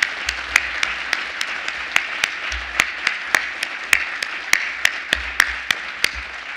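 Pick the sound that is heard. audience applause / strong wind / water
audience applause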